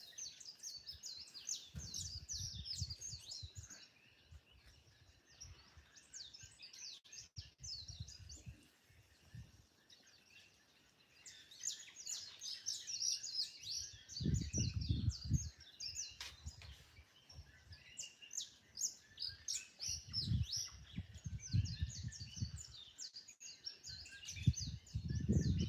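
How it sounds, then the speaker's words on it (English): Birds chirp and twitter continuously at night in Hawaii, a busy layered chorus of high calls at moderate distance, with soft low rumbling thumps underneath at times. "You can probably hear the birds."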